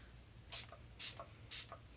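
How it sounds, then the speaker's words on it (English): Three quick, faint hisses of MAC Fix Plus setting spray from a pump bottle onto a damp makeup sponge, spaced about half a second apart in a quiet room. "I'm just gonna spray some MAC Fix Plus."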